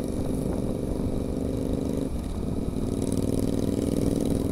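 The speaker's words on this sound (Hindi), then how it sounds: "इसका एग्जॉस्ट निकाला हुआ है, काफी ज्यादा मस्त आवाज आ रहा" A motorcycle engine with its exhaust removed runs at a steady, rough, throbbing idle, loud and close, continuous with no other sounds.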